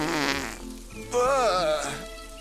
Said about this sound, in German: Er gewinnt die Furz-Olympiade.